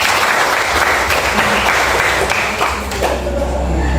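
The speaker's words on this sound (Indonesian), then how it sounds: "tepuk tangan buat teman-teman kalian." Students in a classroom applaud their classmates with dense, loud, continuous clapping that fills the whole stretch and eases slightly near the end.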